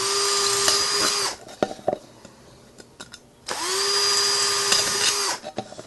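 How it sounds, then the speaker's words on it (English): A power drill bores holes in a portable gasification burner with a small drill bit, two loud sustained whining bursts separated by a brief pause with small clicks and handling knocks. "Normally, I also do the bottom with the same drill bit."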